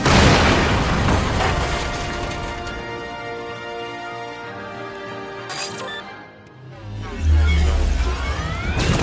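Dense game soundscape from Tales from the Borderlands as the moonbeam weapon fires and explodes: sustained layered rumbling and tones, a brief dip, then a heavy low boom bursting in near the end.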